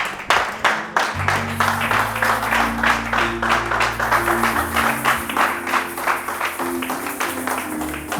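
A church congregation applauds the Lord with steady, rhythmic clapping throughout, loud and close, accompanied by sustained organ or keyboard chords and some voices.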